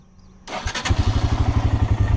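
A Royal Enfield Himalayan motorcycle engine cranks and fires, then settles into a loud, close, steady single-cylinder thump at idle with even low pulses, no talking.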